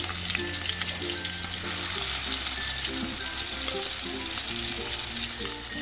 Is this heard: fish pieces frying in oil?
yes